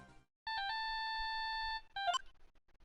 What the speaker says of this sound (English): she also received a phone call from the owner of the phone.